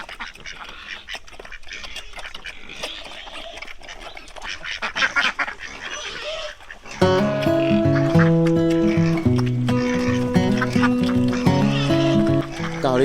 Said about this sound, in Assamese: গাহৰিকেইটাক দানা দিলে হাঁহ মুৰ্গী চব আহি যায়